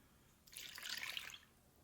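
A short, faint pour of nuruk water into a pot of cooled rice porridge for rice wine, lasting about a second, a soft splashing trickle in a quiet room.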